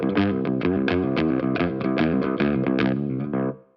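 An electric guitar played through distortion for a heavy, gritty tone churns out a fast, chugging run of chords, loud and up close, before the last chord rings and cuts off.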